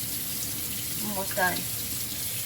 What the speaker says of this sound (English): First we gotta wash our hands